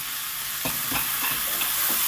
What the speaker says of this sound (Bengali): মশলার সাথে সুন্দর করে নেড়ে চেড়ে আমি তিন থেকে চার মিনিট এটাকে কষিয়ে নেব